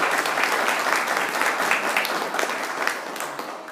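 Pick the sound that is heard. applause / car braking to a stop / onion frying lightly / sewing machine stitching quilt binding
applause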